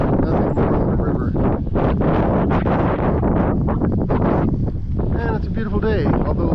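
Loud, continuous wind roars into the microphone outdoors beside a river in the Central Oregon high desert, a heavy buffeting rumble that nearly covers a person talking throughout.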